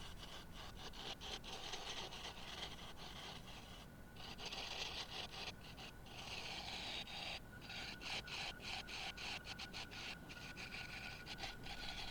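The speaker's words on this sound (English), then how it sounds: "I'm still using the gouge because this is just sort of removing a lot of material." A gouge shaves wood steadily from a turning blank while a round mallet is shaped on a lathe, giving a continuous rough, rasping scrape with rhythmic pulses, quiet and close, with no talking.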